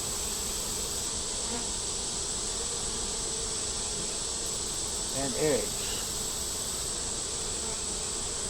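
Honey bees on hive frames during a hive inspection, a close, steady buzzing drone that runs throughout, with a few words spoken briefly over it.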